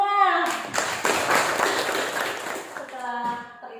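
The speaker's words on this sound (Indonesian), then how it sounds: "Aplaus untuk kita semua." Classroom students clapping in a brief burst of applause, preceded and followed by a teacher speaking in Indonesian during a biology lesson.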